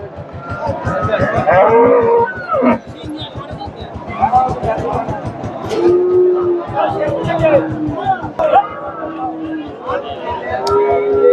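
Dairy cows and calves lowing now and then amid a dense, steady babble of crowd chatter at the busy outdoor Chandaikona cattle market.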